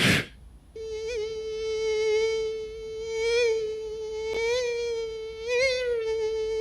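A beatboxer imitates a mosquito, holding a thin, nasal buzzing whine that wavers and swells in pitch as if the insect circles close by, with no talking.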